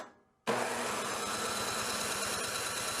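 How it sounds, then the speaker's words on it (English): A Toro 521 snowblower that had sat unused for over ten years catches abruptly after a moment of quiet and settles into a loud, steady, close-up engine run with a rough, throbbing pulse. "Starter definitely a little bit iffy, but at the same time it did actually start."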